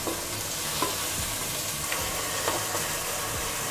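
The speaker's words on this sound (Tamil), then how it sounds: "அந்த தக்காளியை இதில் சேர்த்துருங்க. சேர்த்து நல்லா கலந்து விடுங்க. தக்காளி கொஞ்சம் வதங்கட்டும்." Tomatoes sautéing in a pan while Madurai chicken kulambu is being cooked, a steady sizzle and hiss with a few faint stirring scrapes, no voices.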